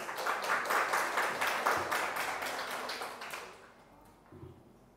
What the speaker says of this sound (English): Give the biggest round of applause.